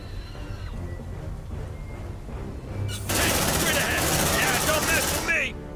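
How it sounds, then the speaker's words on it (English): Rapid automatic gunfire erupts in the Aliens: Dark Descent video game as troops shoot at Xenos, a dense, loud burst lasting a few seconds over a low rumbling background, then cutting away. "Keep shooting the Xenos"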